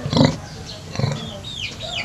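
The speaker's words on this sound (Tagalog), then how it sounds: "May alaga po silang pig." A pet pig kept at a rural home in the province grunts in short low bursts near the mic, with people talking and greeting it alongside.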